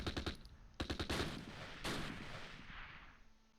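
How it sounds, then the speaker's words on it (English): Gunfire from a German Panzerjäger striking units in the Close Combat WWII strategy game, set at Valkenswaard: a quick run of sharp reports, a second heavier burst, then a big blast that rolls off into a fading rumble. "Panzerjäger shot at us"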